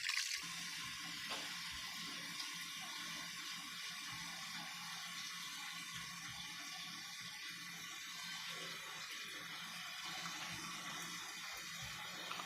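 Fish being washed in water for an Adivasi fish curry, a soft continuous splashing and trickling of water with small sloshes, faint and steady throughout.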